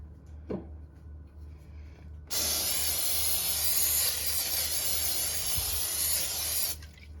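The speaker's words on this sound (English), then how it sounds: "first thing I'm gonna do is spray the lining really well" A steady, loud aerosol cooking spray hisses continuously for about four seconds onto a crock pot lining, preceded by a brief click and faint background rustling.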